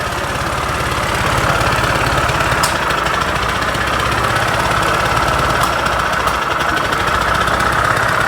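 A Fiat 126p engine, cold and recently restarted after a rag got pushed onto the piston into the valves, runs steadily with a low, uneven idle and a slight knock. It is close and continuous, with no talk.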